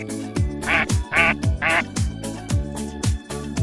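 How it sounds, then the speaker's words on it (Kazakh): A duck quacks three times in quick succession, the nasal quacks loud and close over a bouncy, regular children's music beat. "үйрек"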